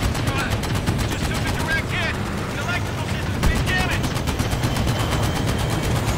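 A dorsal machine gun fires continuously in a WWII aerial battle in Medal of Honor VR, giving a steady, loud, rapid rattle with engine drone underneath and voices talking over it.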